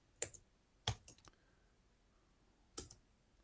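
Several sharp, isolated clicks from a computer keyboard, spread unevenly across a few seconds at low volume in a quiet room.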